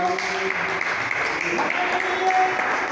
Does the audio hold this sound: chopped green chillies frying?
no